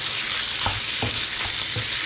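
Ground chicken for spaghetti sauce stir-fried and broken up in a pan gives a steady loud sizzle, with three or four scraping strokes of a spatula spaced about half a second apart.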